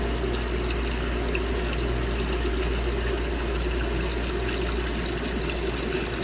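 Water drains out of a laboratory flow tank through an opened outlet, giving a steady, dense rushing and trickling wash with a low pump-like hum underneath, unbroken from start to finish.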